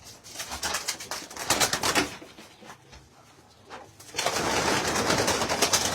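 Pigeons coo and flutter in a breeding loft, with rustling wing flaps and scuffling close by and a soft, low murmuring underneath, growing louder toward the end.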